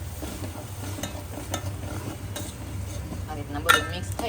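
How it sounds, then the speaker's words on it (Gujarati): Spice mix being stirred into simmering gravy in a pan for a peanut bhajiya curry, with scraping stirs and soft sizzling, a brief metallic clink near the end, all fairly close. "આ રીતના બધું મિક્સ થઈ ગયા સુધી હલાવવાનું."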